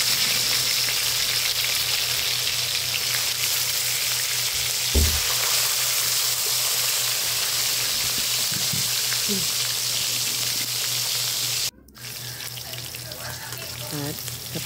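Bacalao fish frying steadily in hot oil, a loud continuous sizzle that holds for about twelve seconds, dips abruptly, then resumes a little quieter with faint bubbling.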